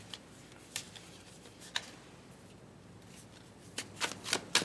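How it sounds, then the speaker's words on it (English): Tarot cards are shuffled by hand in soft, papery bursts, a few spaced riffles early on, then quicker, louder clustered shuffles near the end, close and with no talking. "let's pull some tarot to expand on this message"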